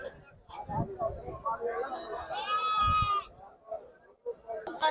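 A single sheep bleats briefly in the middle of steady conversation between several people nearby at a sheep and goat market in Chitradurga, India.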